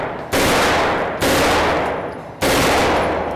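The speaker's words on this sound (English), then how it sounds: "Okay, it's loaded now. I'm going to put it down on full auto." A gun fires on full auto in three loud, close bursts. Each burst is a sustained roar of rapid shots lasting about a second before it cuts off.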